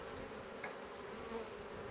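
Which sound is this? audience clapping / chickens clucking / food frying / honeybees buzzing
honeybees buzzing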